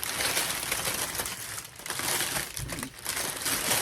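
Paper packaging crinkling and rustling during an unboxing of a Diptyque order, close and continuous with brief pauses.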